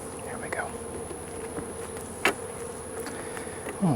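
Honey bees droning steadily from an open hive with a missing queen during an inspection, a close, continuous buzz with a few sharper passes of individual bees near the microphone.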